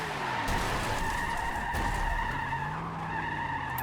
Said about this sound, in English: How does it unsettle itself that much? To the point where it spins its wheels at 200.